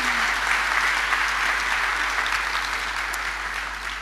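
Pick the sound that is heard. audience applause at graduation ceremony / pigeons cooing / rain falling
audience applause at graduation ceremony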